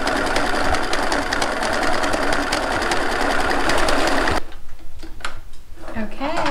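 A sewing machine stitches a boxed cushion cover in a rapid, steady mechanical chatter for several seconds, then stops and leaves a few soft handling sounds.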